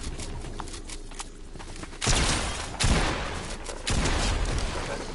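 Video game gunfire in a shooter match, with a shotgun in use: a few loud bursts of shots at about two, three and four seconds over a steady background of game noise and scattered quieter shots.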